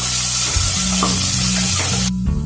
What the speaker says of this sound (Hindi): इसमें ये प्याज ऐड करेंगे और इसे मीडियम फ्लेम पे कलर चेंज होने तक भून लेंगे